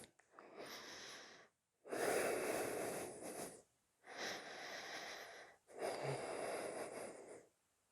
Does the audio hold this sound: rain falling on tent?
no